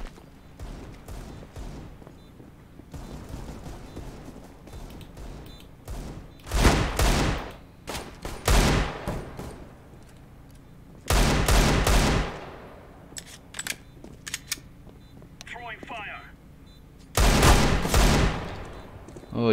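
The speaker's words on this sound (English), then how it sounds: "Oh, you're shooting me with this one." Gunfire in the video game Counter-Strike: Global Offensive on the Canals map, with several loud bursts of rapid shots between quieter stretches of in-game noise.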